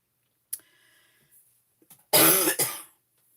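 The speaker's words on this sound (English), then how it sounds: "It's been a rough start to the morning, lots of coughing" A few coughs during a rough morning: a sharp single cough, a pause with faint small sounds, then a loud, harsh burst of coughing close to the microphone that trails off. No one speaks.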